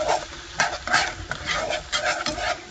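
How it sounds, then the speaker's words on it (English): Flour-and-water gravy being stirred in a pan to work out lumps, a steady run of scraping, clattering spoon strokes in uneven bursts, close and fairly loud with no talk. "Stir it to get all the lumps out"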